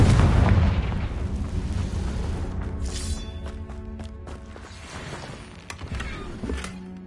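A Confringo blast spell explodes against a poacher in a video game, opening on a loud heavy boom that decays into rumbling debris, with scattered smaller pops and clatters trailing off.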